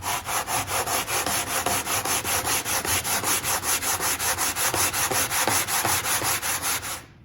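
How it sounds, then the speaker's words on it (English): Wooden ukulele side kerfing being sanded with quick, even back-and-forth strokes, a loud, close, rhythmic gritty rasp that runs steadily and then stops abruptly. "just go all the way down until it's sanded everywhere"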